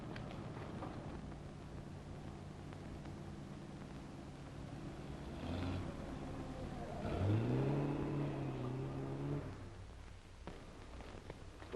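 A car engine idles and rises in a brief rev near the middle, a steady low mechanical hum in an old 1938 street scene, fairly close with no talk over it.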